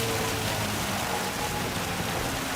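Steady rain hisses during a race in Gran Turismo 7, an even, dense wash of rainfall noise with a faint engine drone beneath, constant and unbroken.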